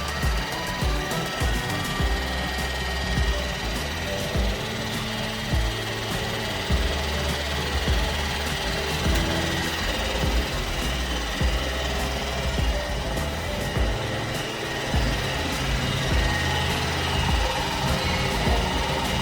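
A vacuum insulation oil purification and filtration machine for transformer oil, rated at 3,000 liters per hour, running with a steady dense mechanical hum and rattling chatter, loud and continuous with no speech.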